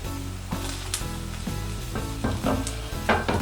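A mizuna chijimi pancake fries in a covered pan over medium-low heat, giving a steady sizzle and crackle with scattered pops and light clicks, close and alone without speech.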